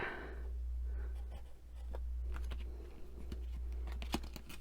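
Soft scratching strokes of a pen or marker writing fold marks on a cardboard template made from discarded packaging, faint short scrapes and taps over a steady low hum.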